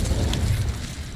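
A fire spell blast cast in Hogwarts Legacy, a loud low rumbling whoosh and boom that holds steady and then tails off slightly over about a second, with no voices.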